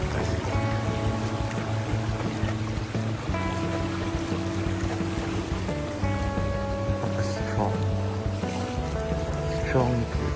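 A boat travels on open water with a steady engine drone, wind and wash around the hull, all constant and close throughout. A person speaks over it.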